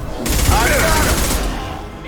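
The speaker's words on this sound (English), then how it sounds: "Firing an impact shot!" Impact-shot gunfire from Mass Effect 2 on Omega: a loud, dense burst of shots and rumble filling the clip, with a sweeping whine mid-way.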